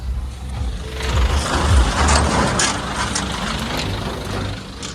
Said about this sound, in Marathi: एवढी ट्रॅफिक आहे ना हे बघा.